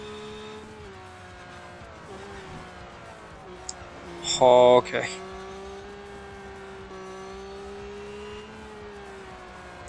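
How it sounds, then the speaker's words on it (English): Race car engines in the Real Racing 3 video game drone with a steady, fairly faint tone, rising in a brief louder burst midway. A voice speaks briefly over the engine sound. "I don't know if you guys can hear the car now."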